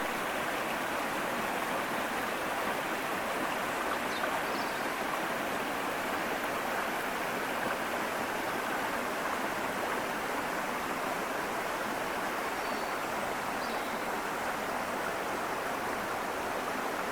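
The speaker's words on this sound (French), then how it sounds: "Regarde ce beau petit ruisseau." A small stream flowing outdoors, a steady close babble of running water that continues evenly without pause or voices.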